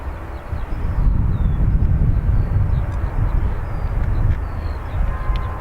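Jet airliner departing a Dublin Airport runway, a steady loud broadband engine roar with low-frequency rumble and wind buffeting, sustained throughout without speech.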